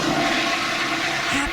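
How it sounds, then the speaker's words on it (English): A toilet flushing in a ladies' restroom, a loud, close rush of swirling water that stays steady and full from start to finish. "Time to pretend flush."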